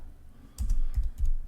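Keys on a computer keyboard are typed to enter a command, three quick clusters of close clicking taps after a short quiet pause.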